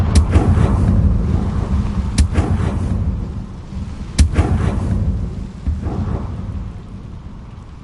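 Confringo blast spell explosions in the Hogwarts Legacy video game: loud booming impacts, three sharp bursts each followed by a rumbling tail, with no talk over them.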